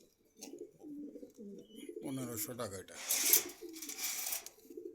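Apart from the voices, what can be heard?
pigeons cooing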